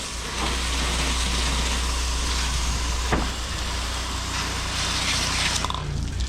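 Water sprays hard from a pressure-washing aluminum wand against a house exterior, a loud steady hiss over a low machine drone, briefly interrupted near the middle and shifting as the spray moves.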